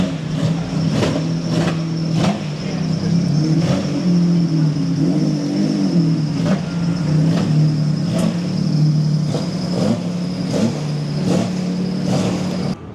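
Collector cars are driven into a Miami showroom, their engines running steadily at moderate volume with occasional revs and repeated sharp clicks or knocks over a continuous mechanical drone.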